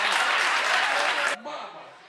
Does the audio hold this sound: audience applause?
yes